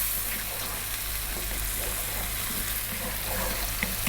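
Tomatoes with turmeric cook down in a pan for a fish and prawn curry, giving an even, close frying sizzle with a few soft stirring sounds and no voices.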